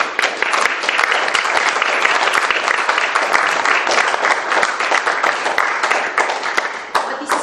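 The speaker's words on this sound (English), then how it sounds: "you can be applauded because you have dreamed" Dense, sustained applause from a conference audience at a launch event, loud and close, with continuous clapping filling the room and no gaps.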